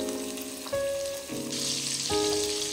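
Egg frying in oil in a pan, a steady close sizzle and crackle that swells brighter midway, with faint tonal clinks and hums from the kitchen beneath it and no talk.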